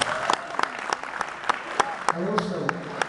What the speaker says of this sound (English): Round of applause for the Fruit-Eating Bears with Joey Molland.